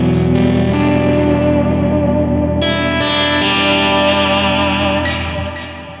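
Sustained chords from a PRS SE Custom 24 semi-hollow-body electric guitar ring out loud and full, washed in heavy reverb, with a new strum partway through before the sound slowly fades.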